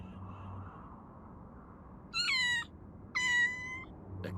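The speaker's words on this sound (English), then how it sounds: "A cat?" Two drawn-out cat meows from a video game, each lasting about half a second and separated by a short pause, sound clearly over a low background hum, with no one talking.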